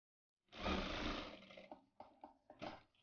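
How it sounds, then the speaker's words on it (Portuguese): A sewing machine stitches along the edge of a piece of fabric for a small multipurpose pouch, with a sustained loud run of stitching followed by several short stop-start bursts. "Costura ele aqui na beiradinha."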